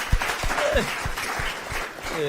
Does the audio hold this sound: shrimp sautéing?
no